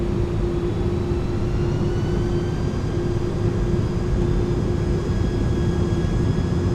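Engines of an iniBuilds A300 airliner in the Microsoft Flight Simulator video game: a steady, loud, unbroken jet roar with a thin high whine riding over it, continuous throughout with no talk.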